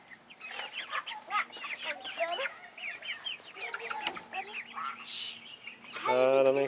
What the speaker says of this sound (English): We have some other Orpingtons, and some of them are roosters.